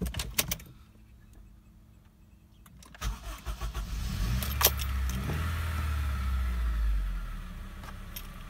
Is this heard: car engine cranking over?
yes